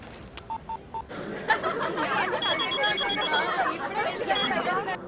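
A few short telephone dialing beeps sound at first, then a burst of ringing and chattering tones follows while people talk and laugh nearby.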